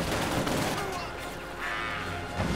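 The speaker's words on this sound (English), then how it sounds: "Mortar rounds going in." Dense battle sounds from the Company of Heroes 2 video game: mortar rounds and gunfire crackle and thud in a continuous loud mix, with a voice talking over the action.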